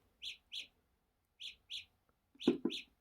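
Paired synthetic bird chirps from Samsung Galaxy Buds wireless earbuds' find-my-earbuds alert sound three times with pauses between, the last pair joined by a soft knock.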